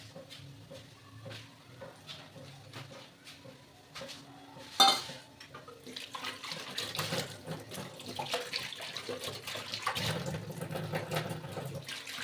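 Pots and dishes being scrubbed and washed at a sink, soft clinks of metal and scraping at first, then a sharp clank followed by running water and sloshing washing, close and moderately loud.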